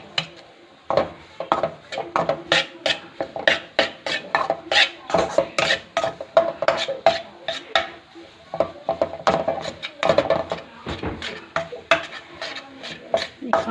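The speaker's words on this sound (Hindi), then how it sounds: "इसमें आपने चम्मच नहीं रोकना, मुसलसल इसमें चम्मच चलाते जाना है ताकि ये नीचे से जले नहीं" A spoon scrapes and knocks steadily against a pan as gram flour roasts for besan barfi. Quick repeated strokes run throughout without pause, close and fairly loud, with no talking.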